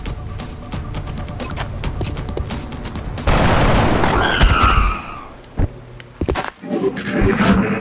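Rapid sustained gunfire in XCOM: Enemy Within, a dense loud fusillade that ends in a heavy burst, followed by a few scattered sharp shots and thuds.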